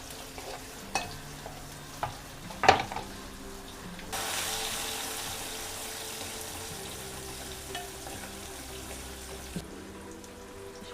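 Sliced onion hits hot oil for a tempering already holding curry leaves and garlic, setting off a sudden loud sizzle that settles into steady frying, with a few light clinks of utensils before and during.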